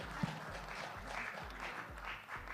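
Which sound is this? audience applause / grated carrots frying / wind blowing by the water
audience applause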